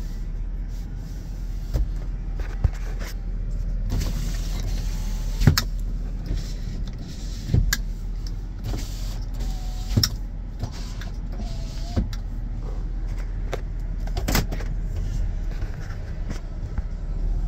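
Electric sunroof motor on a 2007 GMC Yukon, a steady mechanical whir running continuously inside the cabin with a few faint clicks and knocks along the way.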